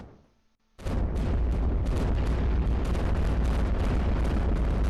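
In the iBomber Defense game, Firestorm turrets pound tanks in Western Europe: after a brief quiet rumble, a sudden dense barrage of booming gunfire and explosions erupts and continues loud and unbroken.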